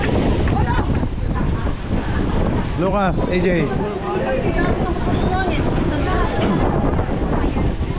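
Strong wind buffeting a boat at sea off Siargao, a constant loud roar of gusts across the microphone with the hum of the boat beneath, while people talk and call out over it.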